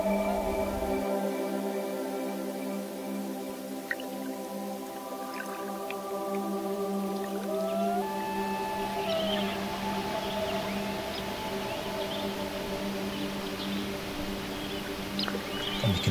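Faint, thin squealing calls of a young common loon rise and slide over a steady low hum, distant and intermittent across a quiet lake scene in Algonquin Park.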